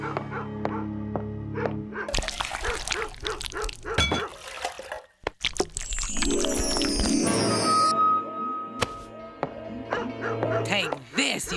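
A cartoon dog barks and yips in sharp bursts, then whimpers, amid loud animated sound effects and splashy liquid noises, with voices speaking over parts of it.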